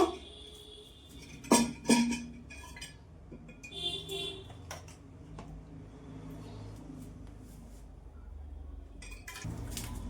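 Raw mango mustard pickle is spooned into a jar, with a few sharp clinks and scrapes of a utensil against the container early on, then quieter shuffling handling sounds.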